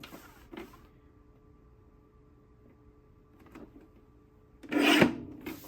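Paper is trimmed at 8 3/4 inches for a cat scrapbook page. After several faint, brief rubbing and handling sounds in a quiet room, one short, loud rasping slice cuts through the paper near the end.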